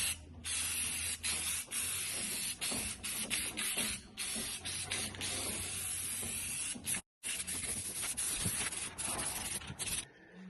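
A spray gun lays a primer coat onto a boat hull, giving a steady, close hiss that runs nearly continuously, broken only by one brief pause near the end.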